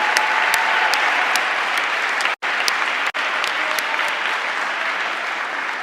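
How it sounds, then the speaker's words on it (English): A school athletic award ceremony audience claps steadily in sustained, dense applause, broken by two brief cuts, with faint crowd murmur beneath. "Please join me in a round of applause for the all ISL."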